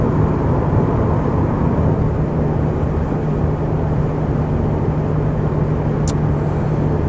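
A Porsche 928S cruises along with a steady, loud low engine rumble and road roar heard from inside the car, constant throughout with no talking.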